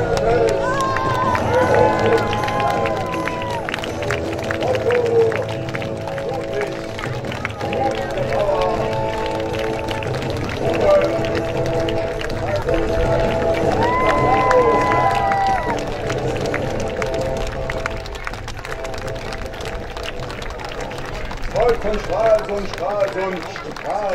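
A crowd cheers and claps at a medieval knights' tournament during a flame ride on a straw-fired track. The cheering runs as a sustained roar under a loud announcer talking over a PA.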